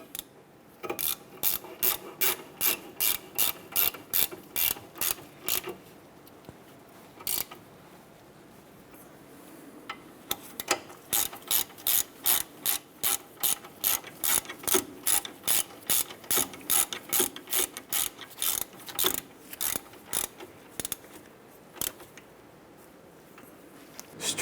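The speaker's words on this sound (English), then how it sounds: "we're going to go ahead and snug those down" Ratchet clicking in fast steady bursts while snugging caliper bracket bolts on a 2008-2012 Honda Accord wheel hub, two long runs of sharp close pawl ticks separated by a short pause, with no talking.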